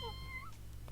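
A cat meows a few times in a quick, close sequence, small rising and falling calls over a steady low background hum.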